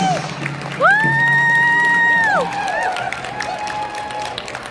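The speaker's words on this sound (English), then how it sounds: "Round of applause." An audience at a Grand Traverse Band round dance breaks into applause with a loud whoop and cheering on top, then the clapping tapers off amid crowd noise.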